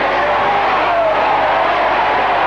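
A rugby league crowd cheers steadily at a Canterbury versus Balmain match, a dense, loud roar with no clear peaks or breaks.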